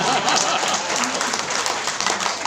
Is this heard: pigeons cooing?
no